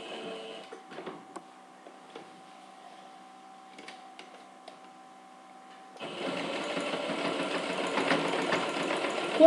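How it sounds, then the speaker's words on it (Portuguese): Sewing machine stitching a denim crossbody bag, starting with light, sparse clicks and mechanical ticks, then a dense, steady whirring run from about six seconds on, close and fairly loud. "Costura um pé de máquina."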